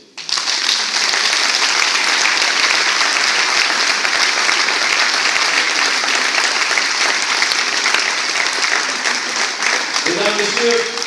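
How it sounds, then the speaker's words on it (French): An audience in a hall at Saint-Lys applauds steadily and loudly for about ten seconds at a political gathering, dense clapping that fades near the end as voices return. "Vous pouvez les applaudir."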